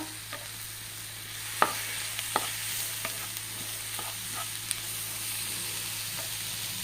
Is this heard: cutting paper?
no